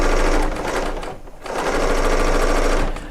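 A serger sewing machine fitted with a clear C27 foot stitches in quick, loud rattling bursts, a brief pause, then runs again for a second burst, with no talk over it.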